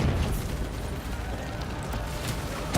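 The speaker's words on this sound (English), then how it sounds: "Somebody's throwing grenades at me." Grenade blasts in the shooter game Call of Duty: Black Ops III, a loud continuous roar of explosions and rumbling bursts that fills the whole stretch, with no clear talking.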